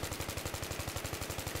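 Rapid automatic gunfire in Battlefield 3 multiplayer, a fast, even burst of shots repeating about ten times a second, loud and close with no talking over it.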